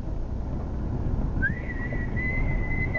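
A single steady whistle rises and holds a high tone for over a second, over a constant low background rumble.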